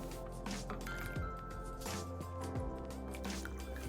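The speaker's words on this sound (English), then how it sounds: "pour them through a mesh sieve for a clearer tea" Prunella vulgaris herbal tea is poured through a mesh sieve, giving a close, quiet run of liquid drips and splashing trickles with soft clinks, no speech.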